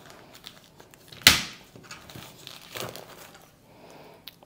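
Newly bought WMF Profi Resist frying pan packaging being opened: one sharp, close crinkle of plastic wrapping, followed by softer intermittent rustling and handling noises.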